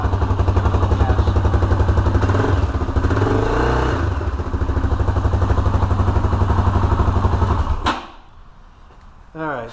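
A Honda 400EX ATV engine runs loud and close during a test for a clanking noise, with a steady rapid thumping idle and a brief rev before it cuts off near the end.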